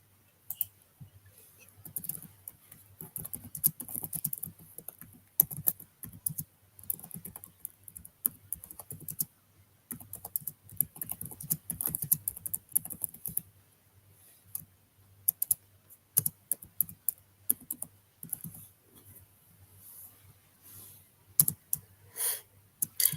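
Someone types a username and password on a computer keyboard, the bursts of quick, close, soft key clicks broken by short pauses, with no talk.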